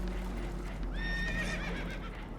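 A spooked horse whinnies in Red Dead Redemption 2, one loud rising and falling neigh over a constant low rumble and clatter in the background.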